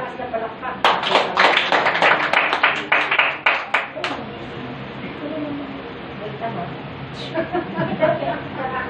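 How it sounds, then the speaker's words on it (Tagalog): A church congregation at a prayer gathering claps in a burst of sharp, loud hand claps for a few seconds, then fades into softer scattered claps and murmuring with speech. "Malakas na palakpak."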